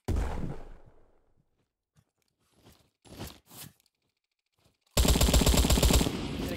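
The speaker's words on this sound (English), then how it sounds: "I'm gonna try and pistol you from this distance." Pistol shots in the Roblox-style shooter Bad Business: a sharp burst at the start fades out, a few scattered faint pops follow, then a loud sustained rattle of rapid fire fills the last second and a half.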